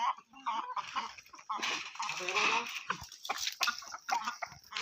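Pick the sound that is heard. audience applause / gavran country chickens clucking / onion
gavran country chickens clucking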